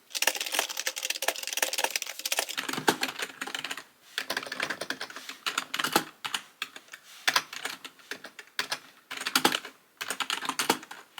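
Fast, close-up typing on a computer keyboard during a writing session, with bursts of clattering keystrokes separated by short pauses and no talking.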